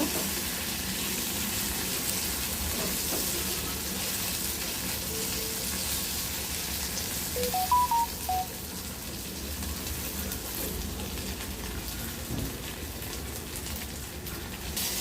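Sliced taro (seppankizhangu) roasting in oil in a pan, a continuous close crackle and sizzle throughout with occasional stirring clinks and faint background noise.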